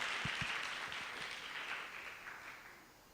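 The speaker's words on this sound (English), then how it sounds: "Another round of applause for Chairman Hemston Opande" Applause from an audience at an official launch function, fairly faint and steady with a few distinct claps near the start, fading slightly toward the end.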